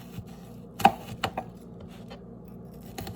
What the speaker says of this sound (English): you make some slits along the onion vertically, like this.